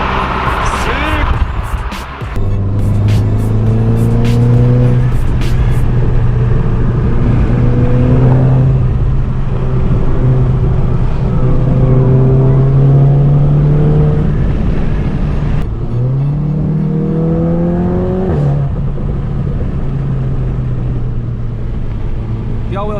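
An APR stage 2 tuned Golf R accelerates hard while racing a Prowler, its engine note climbing through repeated pulls with rising pitch and brief dips at shifts, loud and close from inside the cabin.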